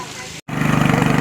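A tractor engine runs steadily close by in a paddy field during rice transplanting, a throbbing pulsing drone after a brief cut-out, with a voice heard under it.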